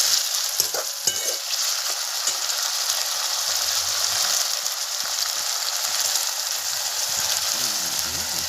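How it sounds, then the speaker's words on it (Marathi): Diced potato frying for sabudana khichdi in a pan over a wood-fired chulha, with a steady dense sizzle and scraping stirs throughout, no talk. "कसं मस्त भाजते का बटाटा मस्त थोडासा तरपूस भाजून घ्यायचा"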